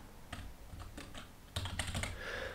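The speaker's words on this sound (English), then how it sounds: "So let's just type that in." Computer keyboard typing, a quick run of close, crisp key clicks in short bursts, faster toward the end, with no voices.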